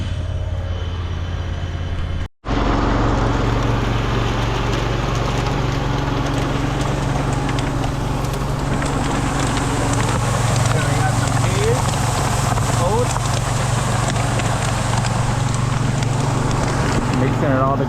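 A grain cart's engine rumbles steadily and loudly as it unloads mixed cattle feed into a truck outdoors, with wind buffeting the microphone and a voice talking over the drone.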